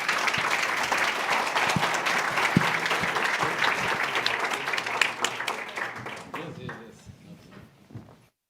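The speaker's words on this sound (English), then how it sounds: "Please join me in giving applause to Hyun." A conference audience applauds for several seconds after a presentation, a dense clatter of many hands that thins out and fades to near silence at the end.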